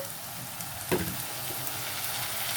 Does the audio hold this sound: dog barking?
no